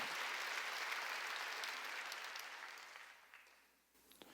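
A church congregation claps during a Sunday worship service, a loud, full burst of applause that gradually thins and tapers off toward the end, with a few scattered claps lingering.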